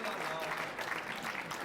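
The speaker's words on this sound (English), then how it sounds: "Listen to the crowd." Crowd applause from spectators at the Nordstan GP 2015 petanque match, a steady dense clapping that fills the whole moment with a commentator's voice running underneath.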